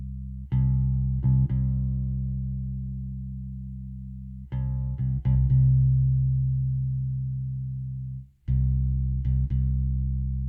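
Bass guitar in a home-studio mix with a thin tone, a few plucked low notes that ring on and slowly decay, played alone with gaps between phrases.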